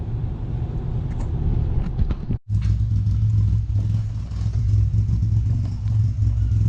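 A car engine revs hard and close, a loud continuous roar that cuts out for a moment and then returns steadier and deeper, with no speech.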